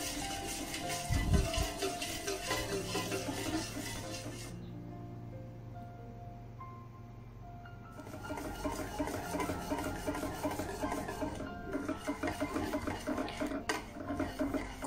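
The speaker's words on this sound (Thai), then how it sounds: "จากนั้นเราก็คนไปเรื่อยๆนะคะจนกว่าส่วนผสมจะข้นนะคะ" Thai tako pudding mixture is stirred in a pot over low heat, with a spoon scraping and knocking against the pot in an uneven rhythm under a steady background tone, and no talking.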